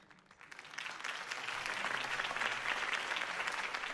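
Crowd applause from a campaign rally in the Batman Telltale video game, building from a thin start into a dense, sustained wash of many hands clapping that holds steady and loud to the end.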